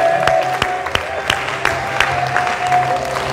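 A church congregation claps together in a steady, fairly loud rhythm during worship, with crowd murmur beneath.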